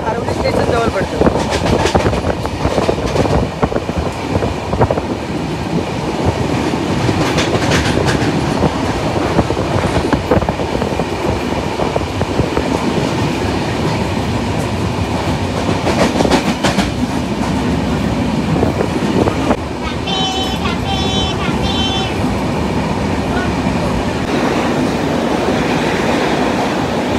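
The Mandvi Express runs into Aravali station with a loud, steady roar and rhythmic clickety-clack from the wheels, and a short high squeal toward the end. Voices can be heard under the noise.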